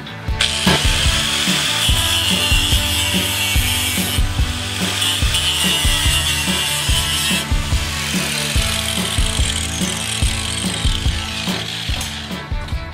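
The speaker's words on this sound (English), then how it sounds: "We're going to start by cutting through the stainless steel mesh, just like we do on a regular cut." A die grinder with a thin cutting wheel slices through stainless steel mesh on a stone corner piece, giving a loud, continuous metallic grinding whine with rapid chattering ticks that holds steady for the whole stretch, with no talking.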